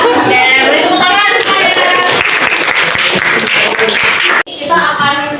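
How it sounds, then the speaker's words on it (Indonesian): A class of students applauding in a classroom, steady dense clapping that fills most of the stretch before cutting off abruptly, with voices talking over and after it. "Oke, beri tepuk tangan."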